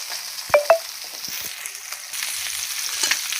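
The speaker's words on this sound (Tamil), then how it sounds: "இந்த மாதிரி வறுக்கலாம்." Marinated kavalai fish fries in a pan with a continuous close sizzle. Two sharp clicks near the start come from the pan or utensil, and no one speaks.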